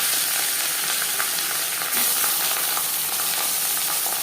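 Fish sizzles in hot refined oil in a pan, a steady, loud, dense frying hiss that runs the whole time without pause, with no voices over it.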